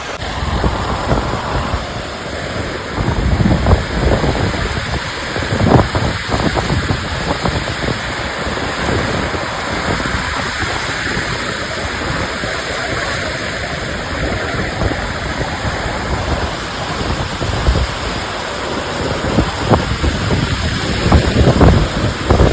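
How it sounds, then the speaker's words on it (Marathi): Loud, steady roar of a heavy May rain storm with gusting wind buffeting the microphone on a farm, continuous throughout with no talking. "हा पाऊस तर खूप खतरनाक आहे"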